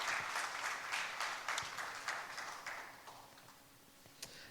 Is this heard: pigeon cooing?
no